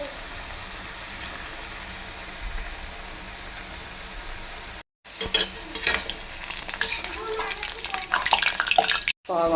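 Onion bhaji fritters being fried until crisp in hot oil, a steady sizzle that swells into a louder, busier crackle after a short break, with occasional stirring clatter near the pan.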